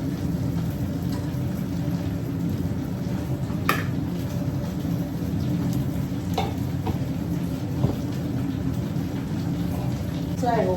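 Okra (bhindi) and onion fry in a pan with a constant close sizzle. Occasional sharp clinks and scrapes of a utensil against the pan punctuate it, and faint talk sits in the background.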